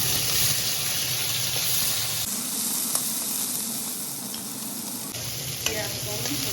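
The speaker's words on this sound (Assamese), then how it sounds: "পিঁয়াজকণ ৰঙচুৱাকৈ ভাজি ল'ম।" Chopped onions and green chili frying in a pan with five-spice seeds, for a dry fish curry, giving a loud, steady sizzle throughout, with stirring scrapes and a short quieter stretch in the middle.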